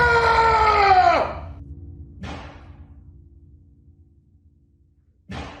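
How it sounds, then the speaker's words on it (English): Frightened scream during a scary ghost video, a loud high wail lasting about a second that falls sharply in pitch, followed by quieter breathy sounds and a later burst. "Y'all don't need to hear me scream like a bitch."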